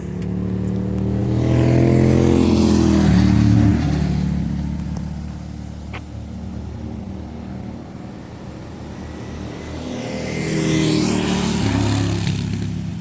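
A Honda GoldWing motorcycle engine roars closer, revs past and fades, then another swell rises later, riding by along the Cherohala Skyway in North Carolina.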